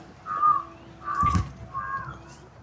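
Crows caw near a home: three harsh, drawn-out calls spaced about a second apart, fairly close and clear, with no talking.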